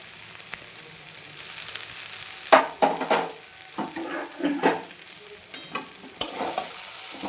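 A spoon stirs banana flower curry in a pan with ghee and garam masala, giving soft sizzling beneath irregular scraping strokes and a few clinks against the pan, fairly close and moderately quiet.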